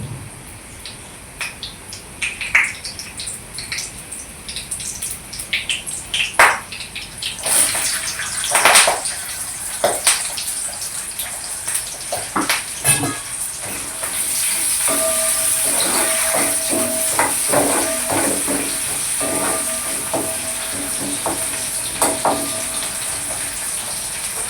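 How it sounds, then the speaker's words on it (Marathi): Curry leaves crackle in hot oil, then chopped onion goes in and a strong, even sizzle takes over, with scattered pops and clinks of a spatula across the pan. "कढीपत्ता तडतडला की मग कांदा टाकून घ्यायचा"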